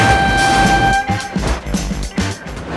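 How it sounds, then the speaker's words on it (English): A toy train horn toots over a steady rolling rumble, followed by a few rhythmic clacks, loud and close, no speech. "Oh my god, train!"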